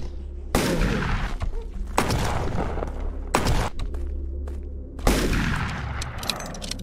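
Four loud, close shotgun blasts fire in a video game skeet-shooting hunt, spaced irregularly, each followed by a rumbling tail.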